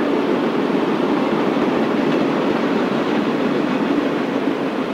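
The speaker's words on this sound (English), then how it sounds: "would you live in this awful place with those railroad trains here?" A railroad train passes in Hastings-on-Hudson, New York, giving a loud, steady, continuous rumble and roar of rolling cars with no voices.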